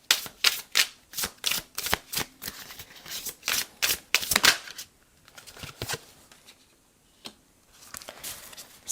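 A tarot card being drawn from the deck for a pick-a-card reading: quick papery flicks and snaps in rapid bursts, close and crisp, then a few sparser taps after a brief pause.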